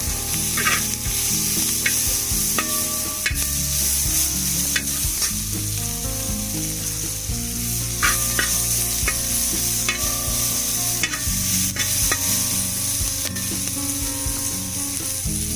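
Onions and green chilies sautéing in a pan for chicken stew, a continuous loud sizzle broken by repeated scraping stir strokes and clinks of a utensil, with no voices.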